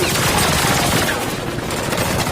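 Dense, sustained gunfire crackles throughout, rapid shots blurring together into a continuous loud barrage with no pauses.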